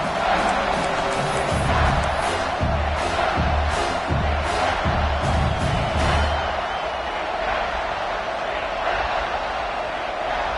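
A large football stadium crowd roars and cheers steadily during a Florida State vs Washington game. The noise is loud and dense and keeps going, with faint chanting pulses in the first half and a sustained wash of cheering throughout.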